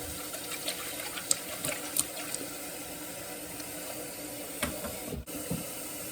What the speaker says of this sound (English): And then this is me washing the bowl.